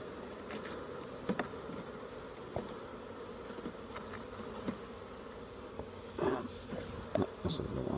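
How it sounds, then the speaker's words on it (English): Honeybees buzz densely around a Langstroth beehive as a nuc is installed, a continuous droning swarm with occasional nearer passes and light knocks of hive equipment. "Yeah, we got lots of bees here."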